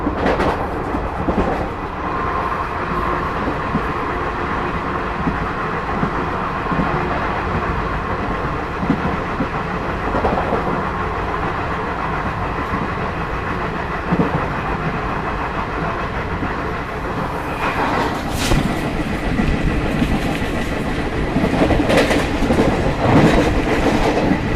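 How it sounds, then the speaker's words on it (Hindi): An Indore–Ahmedabad Shanti Express overtakes and passes near Khajrod station, giving a continuous close rumble with clickety-clack wheel clatter that grows louder and busier toward the end. "तो ये देखा आपने शांति एक्सप्रेस का ओवरटेक"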